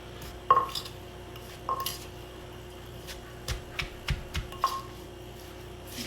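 Papaya salad being mixed in a bowl, with a few sharp clinks of a utensil against the dish and soft irregular stirring and tossing sounds, close and fairly quiet.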